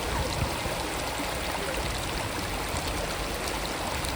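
Water rushes steadily over a check dam in an outdoor nature spot. It makes a constant, dense, hissing flow with no pauses or voices.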